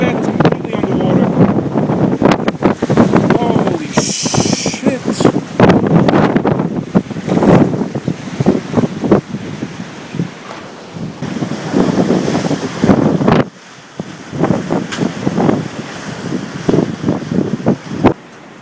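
Hurricane Sandy storm wind buffets the microphone in a flooded Long Island, NY neighborhood in 2012, with a loud, continuous roar and rushing water throughout, rising and falling in gusts.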